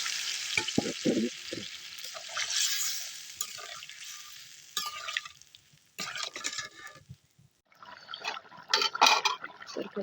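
Fish curry being sautéed and stirred in a pan, intermittent sizzling and scraping with quieter pauses between bursts, close by with no talk.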